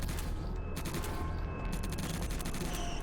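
Rapid SMG fire from the video game Subterrain rattles continuously in dense, fast bursts, loud and close throughout with no talking.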